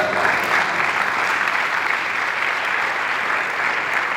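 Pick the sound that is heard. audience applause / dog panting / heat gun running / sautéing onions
audience applause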